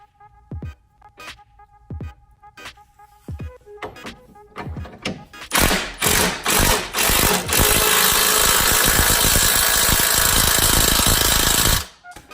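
An impact wrench rattles out several short loud bursts, then hammers continuously for about six seconds before stopping abruptly, close and harsh, tightening a nut on a Jeep Patriot lower control arm.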